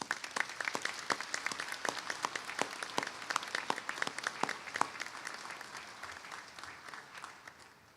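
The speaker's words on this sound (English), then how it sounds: "please join me in a round of applause for the service members and their families" An audience applauds service members and their families at an Embry-Riddle Worldwide ceremony, dense clapping that holds steady and then fades out over several seconds.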